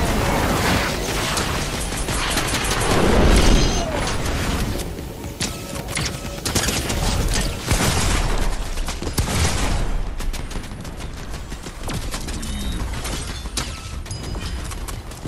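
Dense, continuous game audio from Minecraft BedWars, with launcher explosions popping and bursting over a busy mechanical clatter, loud and steady throughout with no talking.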